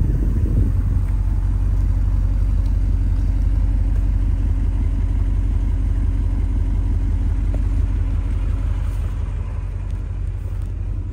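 A 1981 Porsche 928 with a five-speed gearbox idles after a cold start, a steady, loud, low rumbling engine note with even pulsing that continues alone and eases slightly toward the end.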